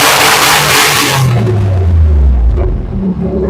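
Holden VX Commodore fitted with loud race exhaust side pipes and lowered suspension revs hard nearby, a roaring burst whose pitch sweeps down as the engine settles into a deep rumble.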